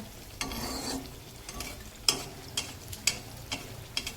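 Beguni, eggplant fritters fried one at a time, crackle in deep hot oil with a steady fizzing sizzle. Close, sharp clinks and scrapes of a stirring utensil cut in every second or so.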